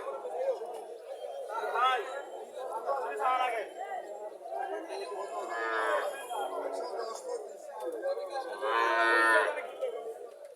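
A cow and her heifer calf at a busy village cattle market, several long drawn-out moos rising and falling in turn over a steady murmur of people talking.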